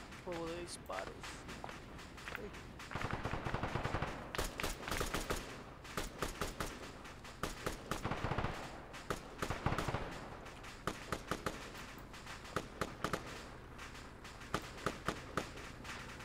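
Rapid gunfire from the video game Arma 3 during a multiplayer clan mission at an enemy-filled port, with bursts of automatic shots and scattered single cracks throughout, mixed under players talking.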